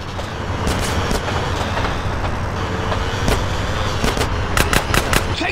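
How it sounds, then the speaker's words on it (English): An oncoming train in the video game GTA San Andreas makes a loud, continuous rumble and roar, with sharp cracks of gunfire punching through it, heaviest toward the end. "Oh, oncoming train!"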